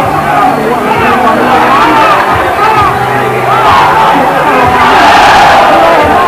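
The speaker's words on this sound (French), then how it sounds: "toutes les attaques thaïlandaises notamment sont accompagnées par la foule" Stadium crowd at a Muay Thai bout roars and cheers continuously in a dense, loud wash of voices, swelling toward the end as a Thai fighter attacks.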